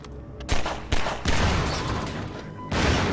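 Gunfire in the video game Half-Life 2, with sharp bursts of shots from enemies at a distance, including several loud volleys and sustained rattling fire.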